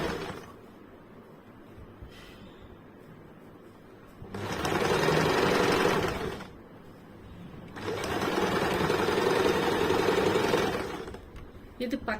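A sewing machine stitches a lined blouse in two long steady runs of rapid, even whirring, with quieter pauses between and in the lead-in, where faint low-level sound continues.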